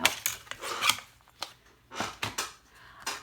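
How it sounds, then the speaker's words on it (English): A paper trimmer slices card stock for a handmade thank-you card, with several short, scratchy cutting strokes up close, separated by brief pauses. "bring out my trimmer, and I'm just going to trim just maybe 1/8 of an inch, just so it closes better"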